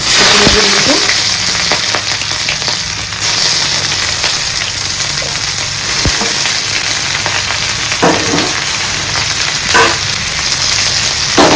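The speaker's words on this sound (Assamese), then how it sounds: "পিঁয়াজটো ফাৰ্ষ্টতে অলপ ফ্ৰাই কৰি লওঁ ধুনীয়াকৈ" Steady, loud sizzling of onions frying in hot oil, continuous throughout with occasional stirring scrapes and clinks.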